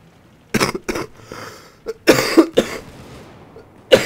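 A man coughs several times in short, close, harsh bursts with pauses between them during a German Battlefield 4 tank-driving session, and no other talk is heard.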